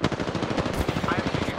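Rapid automatic gunfire in the video game Apex Legends, dense overlapping bursts that run close and loud for the whole moment with no break.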